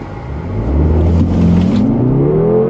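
A 2014 SUV's engine revving and accelerating, a loud, close growl that swells and climbs steadily in pitch as it pulls away.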